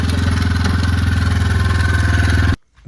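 A motorcycle being ridden, its engine thrumming in a loud, steady pulsing drone close to the microphone, running evenly for over two seconds before cutting off abruptly, no voices.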